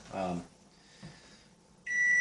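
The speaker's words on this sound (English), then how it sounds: "That's the timer." A kitchen oven timer beeps with a steady high electronic tone near the end, while a potato casserole bakes; a short stretch of talk opens the clip before the beeping starts.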